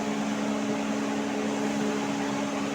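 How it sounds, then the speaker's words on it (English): A low-temperature spice grinding machine in a spice factory runs with a steady, continuous mechanical hum and broadband whir, unchanging throughout and with no voices. "As you can see, this is our low temperature grinding setup."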